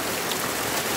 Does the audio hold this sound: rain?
yes